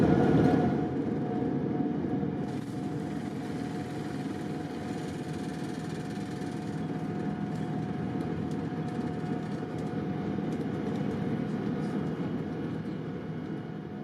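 A KLM Boeing 787 taxis toward the runway, heard from inside the cabin as a steady, even roar of engines and airframe rumble that stays constant throughout.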